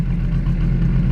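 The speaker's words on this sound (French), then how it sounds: "Écoute le ralenti de la voiture." A car engine idles steadily up close, a loud, even low rumble with slight clatter and no talking.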